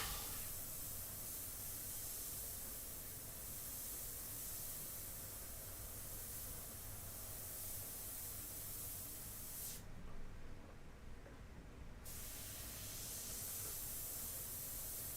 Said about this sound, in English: When I'm spraying, my airbrush is rarely static. It's always moving.